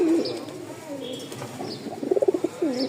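Pigeons of the Rajgolla breed coo in low, rolling calls from close by, with a run of pulsed coos near the end, while people talk over them in a market setting.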